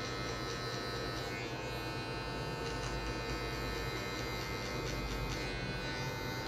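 An electric hair clipper fitted with a half-size guard in the closed position hums and buzzes steadily throughout while cutting hair for a mohawk fade, close and alone with no talking.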